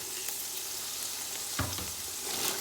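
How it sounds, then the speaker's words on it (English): Onions and carrots frying in a hot pan for chicken fried rice, a steady close sizzle with a brief louder crackle partway through as the vegetables settle and stir. "Now I'm gonna go in with my onions. And I'm gonna add the carrots at the same time."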